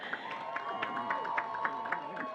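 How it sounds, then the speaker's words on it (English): Steady crowd applause at an outdoor charity kidney walk held at the Detroit Zoo, continuous clapping with scattered louder claps, fairly distant and diffuse over a faint tonal hum. "Feel free to give a round of applause to all these people"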